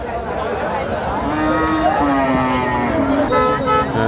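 Deshi bull calling at a busy cattle market in Bangladesh, a long moaning low that rises and falls over steady crowd chatter and distant horns.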